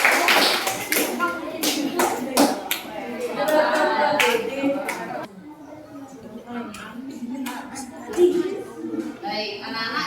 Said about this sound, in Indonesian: Tepuk tangan untuk kelompok gandum.